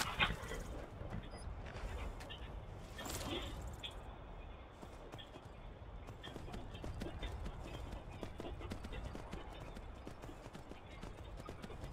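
Horse hooves clip-clop in the video game Skyrim, a steady run of quiet hoofbeats with occasional whinnies and soft background noise throughout.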